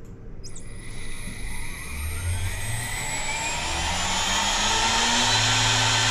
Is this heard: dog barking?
no